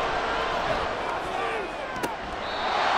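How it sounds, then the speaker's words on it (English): A stadium crowd at a National Spectator League football game, Dragons versus Orbits, roars loudly and steadily on a 3rd-and-5 play, a dense wash of cheering noise filling the whole stretch. "this crowd doing their best to make a lot of racket"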